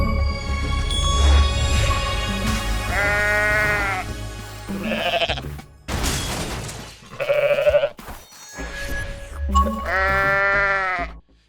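Sheep in the video game Goat Simulator bleat several times in loud, wavering calls with short gaps between them, and crashes and thumps from the game break in between the bleats.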